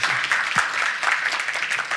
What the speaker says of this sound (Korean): 같이 이야기 나누신 우리 손명기님에게 박수를 쳐주시기 바랍니다.